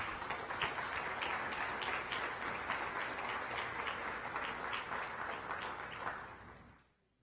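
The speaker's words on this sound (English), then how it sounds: "Let's give them a round of applause." An audience at a workforce convening applauds, a dense, steady wash of many hands clapping at moderate distance that holds for several seconds, then fades away to silence near the end.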